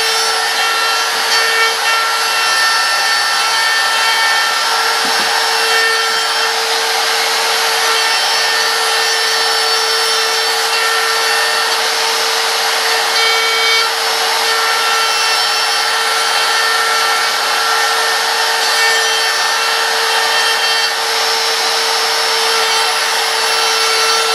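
A router fitted with a 60 degree bit carves a wooden sign freehand, giving a steady, loud, continuous high whine with grinding wood-cutting noise, unbroken for the whole stretch with no talk.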